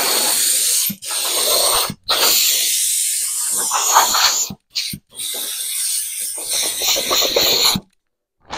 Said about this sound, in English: So I'm just blowing any surface dust off